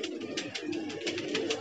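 Several pigeons kept in a loft coo continuously, soft rolling calls overlapping near at hand, with light shuffling and scratching sounds in between.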